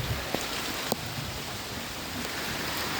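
Steady rain falls on a rooftop garden, a dense continuous patter on the surface with a few louder drips, close and alone with no talk.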